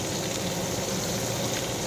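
Small puti fish fry in a pan of hot oil, giving a steady, even sizzle and bubbling hiss that holds throughout without talk.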